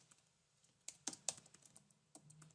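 Code being typed on a computer keyboard, a few scattered soft key taps followed by sharper clustered clicks and a couple more near the end, quiet and close.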